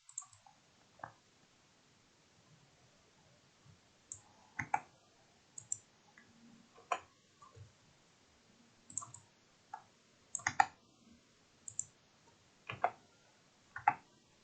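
Sharp, close mouse clicks in CAD software tap out at irregular intervals, some single and some in quick pairs, in a quiet room.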